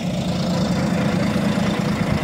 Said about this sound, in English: Euro 5 12 litre 420 horsepower Volvo engine driven through Volvo's 12 speed I shift automated gearbox